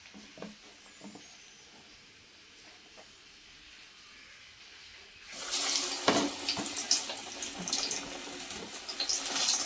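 Chili bajji batter fritters dropped into hot oil, a sudden loud bubbling sizzle that starts partway through after a quieter stretch and keeps crackling steadily to the end.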